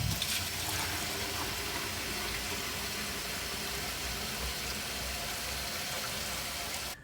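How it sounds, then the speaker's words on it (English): Water running from a tap into a jug as it fills, a steady continuous rushing hiss close by that cuts off at the end, with no talking. "I'm gonna fill up a jug"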